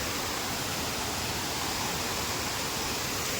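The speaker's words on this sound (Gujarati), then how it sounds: "તમે પાણીનો અવાજ સાંભળજો કેવું આવે ને એ" Water pours over the top of a full dam in a Gujarat village, a dense, constant roar of rushing water that fills the whole stretch without a break and with no talk over it.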